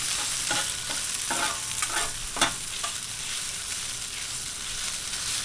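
Pepper steak sizzles in oil on a Blackstone griddle, a steady close hiss of frying broken by a few scraping, clinking strokes of a spatula as the meat is stirred. No one speaks.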